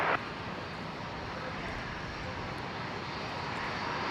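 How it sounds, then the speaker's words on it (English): A Jetstar airliner taxiing into the domestic terminal at Brisbane Airport gives off a steady, fairly quiet engine hum and rush, unchanging and without talk. "there's the Jetstar 818 we just caught arriving, pulling into the domestic terminal in front of us"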